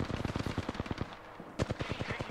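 Rapid bursts of automatic gunfire in Apex Legends crackle in quick, even volleys, a brief pause splitting two strings of shots, at moderate volume.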